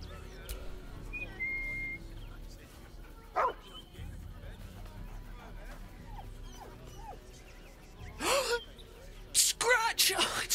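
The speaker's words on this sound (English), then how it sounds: "He's a good dog." Dog in the video game Baldur's Gate 3 gives a few short yips and barks near the end, preceded by soft whimpering sounds over a quiet game ambience with brief voice fragments.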